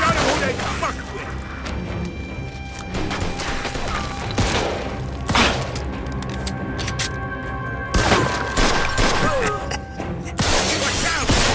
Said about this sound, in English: Watch out. They shoot from up top.